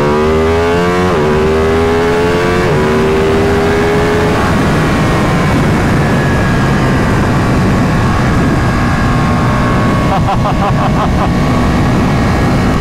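A Ducati 959 Panigale Corse motorcycle revs hard and close, its exhaust rising through several quick upshifts before settling into a sustained loud engine roar, then spiking again briefly near the end.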